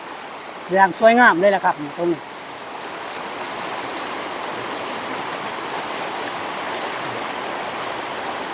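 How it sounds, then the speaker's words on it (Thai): A waterfall at Kaeng Pla Kaeo, Ban Bung Khiao, sends out a steady, even broadband rush of falling water that carries on unbroken. Someone talks briefly over it at the start. "ทางนี้่ตรงนี้ ก็ว่าเป็นน้ำตก"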